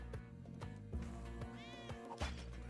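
A cat in the video game Spelunky 2 meows repeatedly, a rising wavering cry standing out over steady game music and repeated percussive effects.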